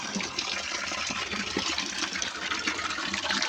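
New water pours into a catfish jar, a steady close gushing and splashing stream that runs without pause, like a tap filling a large container.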